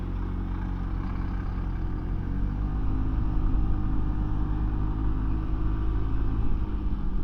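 Engine of a 2025 Voge SR16 125 scooter rumbles steadily as the rider pulls away and accelerates, a loud continuous drone with wind noise that builds slightly midway, no talking.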